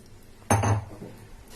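Boiled mutton goes into a pot of Karaikudi Chettinad mutton biryani with a single close metallic clank and a short clatter of utensil against the pan, alone in a quiet kitchen.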